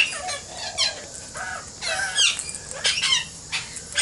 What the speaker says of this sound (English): They're all calling out, as you can probably hear in the background.